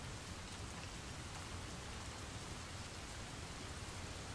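Steady rain as broadband hiss, continuous and even throughout, moderately faint with no voices or other distinct sounds.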